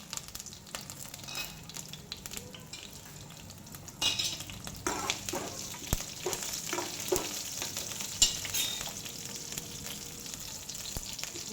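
Cumin seeds and green chillies sizzling in hot oil for a Gujarati dal premix, a steady frying hiss that swells after a few seconds, with stirring clinks and a spoon scraping close by.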